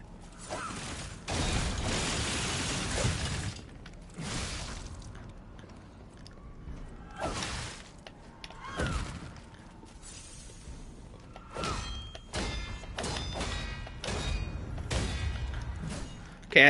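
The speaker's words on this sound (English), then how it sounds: "Okay, that's a weapon break." Enemy weapon shattering in Lies of P, a series of hard metallic crunches, clanks and thuds during heavy combat, with several sharp breaking hits clustered near the end.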